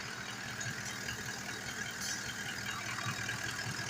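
A warmed-up Toyota Land Cruiser 200 idles at a car service after its drive belt and pulleys were replaced: a steady, even engine hum with no distinct knocks, continuous and close throughout.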